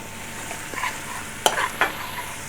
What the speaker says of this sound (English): Let those spices cook, fry out.